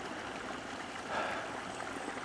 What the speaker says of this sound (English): and the water escaping